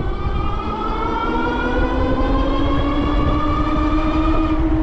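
An Ariel Rider Grizzly electric scooter pulls away from a stop with both motors engaged, giving a loud, steady electric whine that climbs slowly in pitch over rushing wind and road noise.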